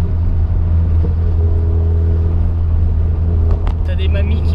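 A Peugeot 106 S16 car rolls slowly along a street in Japan, its low steady engine rumble droning continuously and close, with a brief brighter noise near the end.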